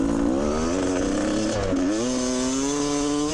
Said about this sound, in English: Listen to this little engine sing, hey?